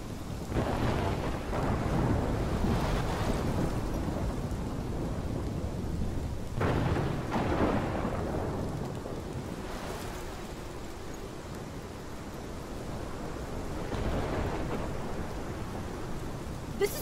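A thunderstorm with heavy rain in the video game Life is Strange: a continuous roar of rain broken by several deep rolling thunder rumbles, loud and enveloping, with no voices.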